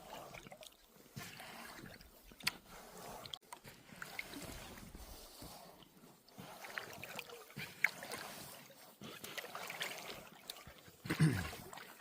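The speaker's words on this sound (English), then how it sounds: "I feel more confident with my paddling today as well." A solo paddler strokes a canoe or kayak through calm water, faint dipping splashes and drips coming in an irregular rhythm against quiet outdoor background.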